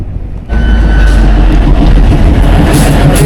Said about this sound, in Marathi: ही ट्रेन अडकली होती समोर, तर ही आली, आता हीच निघेल